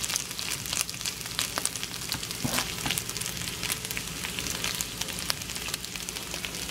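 Browned pieces of leftover steak pushed to the side of a hot pan keep sizzling, a continuous low crackle with scattered pops, fairly quiet and close, with no voices.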